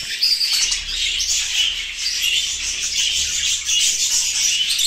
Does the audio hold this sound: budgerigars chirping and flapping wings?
yes